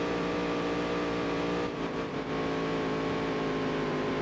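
A NASCAR race car engine in the Dirt to Daytona video game runs with engine trouble mid-race, holding a steady loud drone that briefly dips before resuming.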